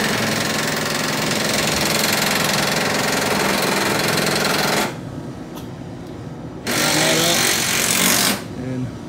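Angle grinder fitted with a flap disc cleaning up a steel frame for a stiffener install on a Jeep Cherokee XJ front end, loud and close with a harsh continuous whine, cutting out briefly near the middle and again toward the end.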